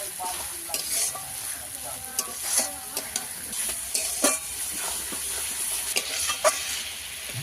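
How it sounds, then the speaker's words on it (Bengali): Spice paste for a country-chicken curry frying and being stirred in oil, a steady close sizzle with scraping stirs and clattering spoon hits throughout, no voices. "মশলা ভালো করে কষিয়ে নেবো তেল ছাড়া অবধি।"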